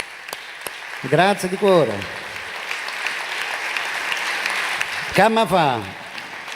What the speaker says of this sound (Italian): Questi applausi li condivido con gli artisti di prima, facciamolo anche a loro